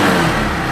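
A second-hand motorcycle engine at a used bike showroom revs briefly, a loud close throaty roar that eases slightly over less than a second.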